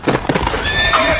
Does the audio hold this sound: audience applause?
no